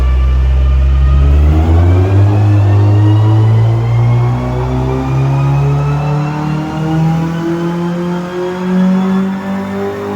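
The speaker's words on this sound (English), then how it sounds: "can hear a dyno running somewhere over there" A car engine revs on a dyno at a tuning shop, rising steadily in pitch through a long, loud pull with a droning mechanical whine, heard from nearby with no talk.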